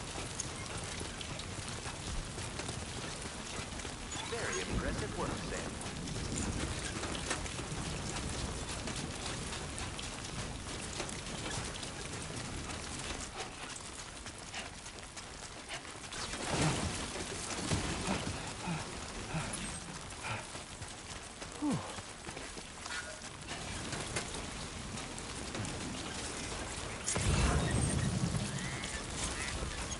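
Steady rain patters across the landscape in the video game Death Stranding 2, a continuous wash of drops that runs the whole time beneath a character's brief spoken line and other game sounds.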